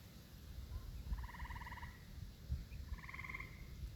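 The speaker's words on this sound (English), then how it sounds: "I think it's just a frog, Mama Duck." A frog gives two raspy, pulsing croaks, each about a second long, near and clear over a low rumbling background.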